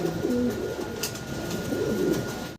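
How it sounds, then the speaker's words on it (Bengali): Pigeons in a Bengali seller's coop coo in low, repeated throaty phrases that overlap one another, steady and close, with faint background rustle and no speech. "বাইরের কাছে একজোড়া স্পেঞ্জেল কালারের ভিতরে শ্যালো কবুতর খুবই আর ছটপটা কবুতর দেখতে পারতেছেন"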